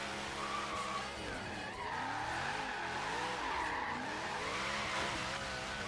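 Truck drifting in the Forza racing video game, with continuous loud tire squeal and skidding over a revving engine, pitch wavering as the slides carry on.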